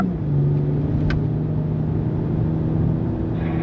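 A BMW M340i drives on a wet race track, giving a steady engine drone and rumble from inside the car with a constant low hum. A brief higher whine rises near the end.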